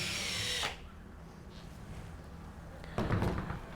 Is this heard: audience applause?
no